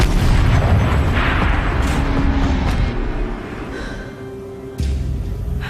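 A turret fires in the video game Horizon Zero Dawn, heavy booming blasts with rumbling low-end, a sharp fresh hit near the end, loud and close.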